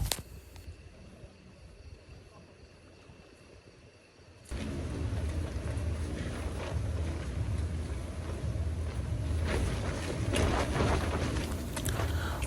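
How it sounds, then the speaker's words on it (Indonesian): Strong wind batters a tent beside Lake Toba, rising abruptly into a loud, continuous roaring buffet that fills the scene with gusting surges and fabric flapping. "Tapi angin mulai terasa kencang."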